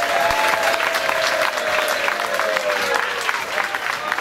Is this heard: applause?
yes